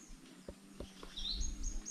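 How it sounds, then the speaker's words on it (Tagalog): A bird gives a short, faint high chirp partway through, with a few soft knocks and low background rumble around it. "Ang gandang ibon."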